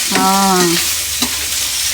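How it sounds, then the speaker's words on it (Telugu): Boiled goat tripe frying in oil for a festival curry, a close, steady sizzle with brief stirring scrapes and no talk. "నూనెలో మంచిగా వేపుకోవాలి ఫస్ట్ దీన్ని ఇంకా ఫ్రై లెక్క చేయాలంట"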